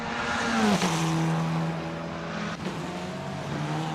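Formula 4 race cars in Assetto Corsa at Adelaide roar past the pit wall: a loud, sustained, high-revving engine drone with pitch sweeps as the cars pass close by, and no talk.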